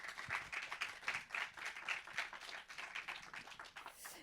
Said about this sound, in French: Je vous propose qu'on les applaudisse tous les quatre.